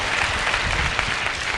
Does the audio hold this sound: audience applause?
yes